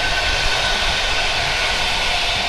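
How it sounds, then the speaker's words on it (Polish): A train rumbles past nearby with a steady, dense roar and a faint whine, holding even and loud for the whole stretch with no voices. "No dobra, jeszcze pociąg."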